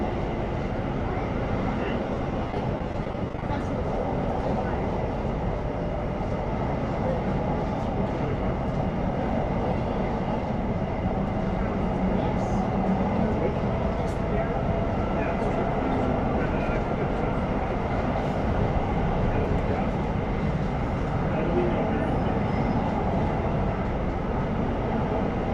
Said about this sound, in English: Thameslink service passing down the middle.